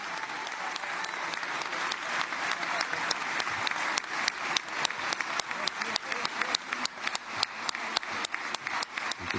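A large crowd at a political event awaiting President Trump and Benjamin Netanyahu at the podium bursts into sustained, dense applause, steady and loud throughout with sharp individual claps cutting through.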